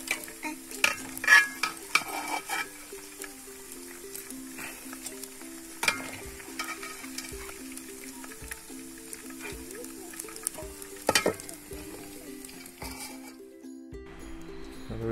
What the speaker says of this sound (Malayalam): നമ്മൾ ഈ ഒരു പരുവത്തിന് ഫ്രൈ ചെയ്തെടുക്കാം.